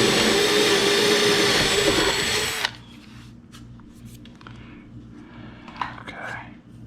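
A power drill bores a rivet hole through a Cobra Daytona replica's headlight cover, a loud steady whine for under three seconds, then stops abruptly, leaving quiet shop sounds and faint handling noises.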